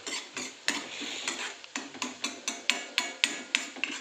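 Spices being stirred in a pan for spicy misal bhel, a steady series of close scraping and tapping strokes of a spoon against the metal, growing sharper and more regular toward the end, with no talk.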